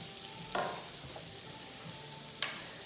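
Spinach and garlic sizzle quietly in a pan, a soft continuous frying hiss with a couple of brief louder crackles as the food is stirred or turned; no talk.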